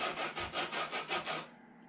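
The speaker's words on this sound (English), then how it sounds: "it actually will take the outside layer off of the orange" A zesting tool rubbed up and down over an orange peel to take off the outer layer, giving about seven rhythmic rasping strokes, close and quiet, then stopping.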